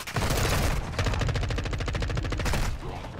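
Rapid automatic gunfire in Call of Duty Modern Warfare 2, a dense string of loud, evenly spaced shots running almost nonstop, with a brief pause and heavier bursts near the end.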